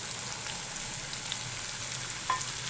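Tomato puree frying with cumin seeds in a pan for dal mash, a steady close sizzle running throughout with a faint stir near the end.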